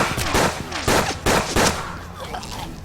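Rapid barrage of gunfire in the Western tactical game Hard West, several loud bursts of shots in quick succession followed by a fading tail with no talking.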